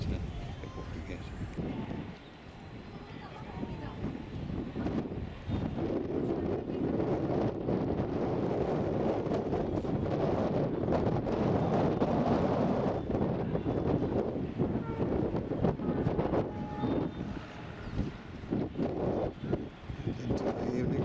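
Gusts of wind buffet the microphone at Ambedkar Memorial Park, Lucknow, in a continuous low roar, rising and falling, with faint voices beneath the rumble.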